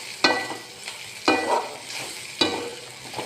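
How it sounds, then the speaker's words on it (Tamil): Garlic, curry leaves, fenugreek, pepper and cumin sauté in a pan, giving a soft, steady sizzle that is broken by three sharp scraping stirs at regular intervals. "பூண்டு, கருவேப்பிலை, வெந்தயம், மிளகு, சீரகம் எல்லாத்தையும் வதக்கி விடுறேன்"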